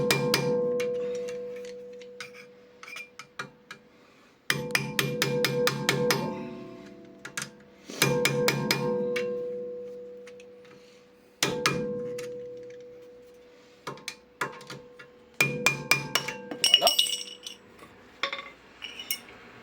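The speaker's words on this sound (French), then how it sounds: "Vous allez mettre un tournevis et venir frapper pour me retirer le couvercle." A screwdriver is hammered against the wheel bearing cover of a Golf 6 1.4 16V, giving five sharp metallic strikes in separate bursts, each with a short ringing decay, close and clear with no talk.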